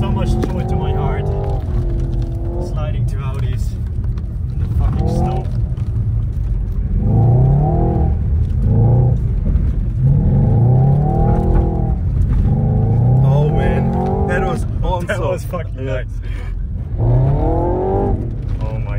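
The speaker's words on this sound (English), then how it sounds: "just hearing two fucking Audi V8s screaming at you" Two Audi RS4 V8 engines snarl and rise in repeated revving surges while tandem drifting in snow, loud and close, with someone talking over them.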